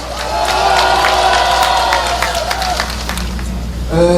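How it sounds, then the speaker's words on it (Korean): Crowd at a Yeouido rally in Seoul applauding and cheering, loud sustained clapping with shouts and whoops over a low rumble, fading near the end as a voice begins. "여러분 다시 한번 감사의 박수를 보내주시기 바랍니다"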